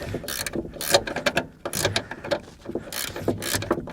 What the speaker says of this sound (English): a little 13 millimeter box end ratchet